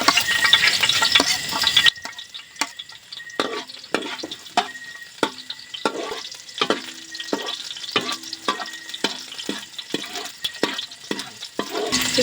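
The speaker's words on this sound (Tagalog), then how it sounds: "Nagigisa na po ako ng bawang." Garlic sautés in a pan: a soft frying hiss runs beneath a steady series of sharp clinks and scrapes from stirring, close and without speech.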